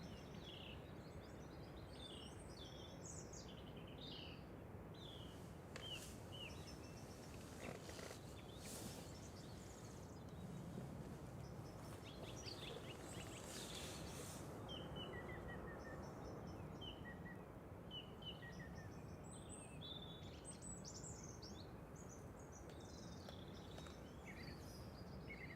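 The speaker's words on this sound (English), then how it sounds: "Maybe you can hear the birds because it's very nice." Faint, scattered bird chirps and tweets over a low outdoor rumble at Manchester Airport, distant and intermittent throughout.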